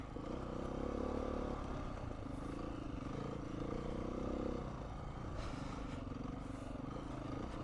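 A small Yamaha TTR 50E motorcycle rides around nearby, its engine droning steadily with rising and falling revs and some clatter throughout.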